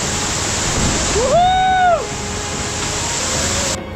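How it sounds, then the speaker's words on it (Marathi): Loud, continuous gushing of a roadside waterfall in Tamhini Ghat, with a brief tonal whine rising and falling partway through, then the rushing water carries on alone. "हा जो बघतोय आपण वर्ण वाहत आलेला पूर्ण रस्त्याच्या साईडला"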